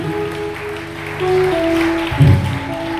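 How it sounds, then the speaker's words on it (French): A church congregation applauding during a service, a steady wash of clapping over sustained keyboard or organ tones, swelling briefly near the end. "Acclamons encore très fort pour le Seigneur Jésus."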